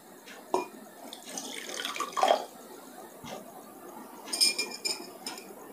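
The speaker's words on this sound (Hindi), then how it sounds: "इसमें और थोड़ा पानी मिला लेते हैं।" Water is poured and stirred into rice bran oil in a glass during a demonstration, with splashing, dripping and clinking of glass and utensils coming in intermittent bursts.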